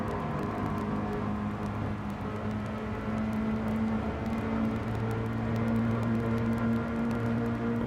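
A modified car drives a Tokyo street circuit in Gran Turismo 7, its engine holding a steady droning hum with a smooth whir and low rumble that shifts pitch slightly as it runs on.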